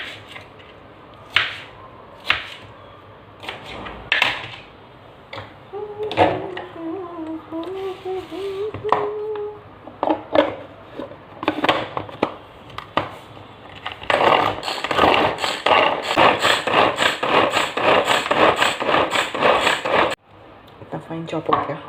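Onions being chopped for bhelpuri with a pull-cord blade chopper, a series of quick rattling, clicking bursts that grow denser toward the end, with a person talking between the bursts.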